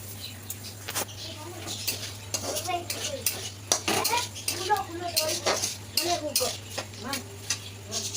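A spoon scrapes and clanks against a pan as tomato masala is stirred and sautéed for an Odia potato curry, with irregular metallic knocks and scrapes close by.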